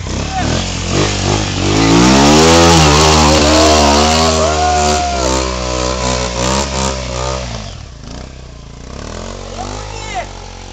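A two-wheel tractor on an off-road trail revs hard and loud, its engine pitch climbing and falling in long sweeps before easing off, with voices talking over it.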